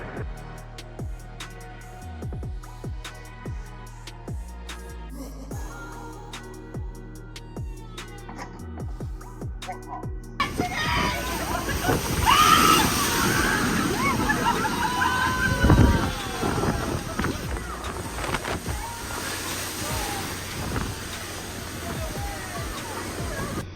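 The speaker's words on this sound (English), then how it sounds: "massive waves continuously crashing against the east coast of the United States" Heavy storm surf from Tropical Storm Ophelia pounds the coast at North Wildwood, New Jersey, in a dense, continuous roar of crashing waves, loud and wind-blown, preceded by a stretch of unrelated rhythmic music.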